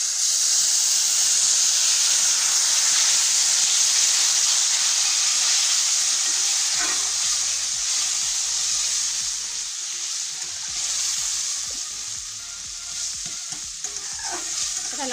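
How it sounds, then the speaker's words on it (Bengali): Water poured into hot semolina fried in ghee gives a loud, continuous hiss and sizzle of steam with some stirring, close up and with no talk. "এবার আমি অল্প জল দেব।"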